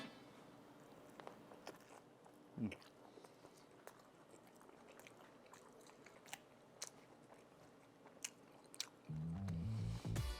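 A taco is bitten and chewed up close, with quiet, scattered crunches and soft mouth sounds at low level; a louder burst of other sound comes in during the final second.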